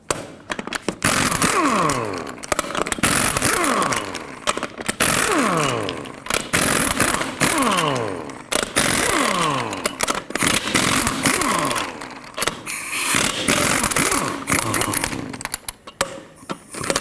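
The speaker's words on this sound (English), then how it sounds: "with a 22mm socket as well, go ahead and remove all 8 of your lug nuts" Impact wrench spinning 22mm lug nuts off a Chevy Express 3500 van wheel, loud repeated bursts of whirring and rattling hammering, one nut after another, close up with no talking.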